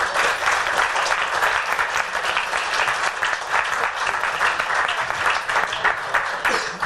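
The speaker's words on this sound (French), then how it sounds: "Je vous propose d'applaudir pour l'accueillir et nous donner du courage." Dense sustained audience applause at a talk, many hands clapping steadily and loudly throughout with no break.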